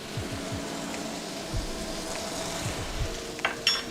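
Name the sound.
curry powder and turmeric sizzling in chicken fat and oil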